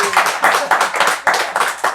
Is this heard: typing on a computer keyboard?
no